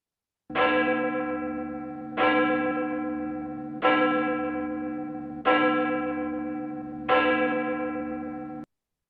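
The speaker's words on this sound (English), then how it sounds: "the ringing of the bell" Five slow, resonant church bell strikes, each ringing out and fading before the next, evenly spaced and clear with no voices.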